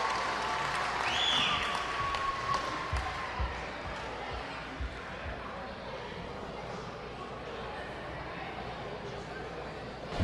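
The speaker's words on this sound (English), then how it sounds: "The crowd appreciates what he did." A wrestling crowd applauding and cheering at an indoor show, steady dense clapping and crowd noise with a few sharper thuds, heard from within the arena throughout.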